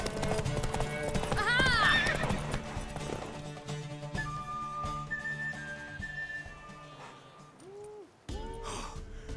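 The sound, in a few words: horse hooves clip-clopping in the video game Witcher 3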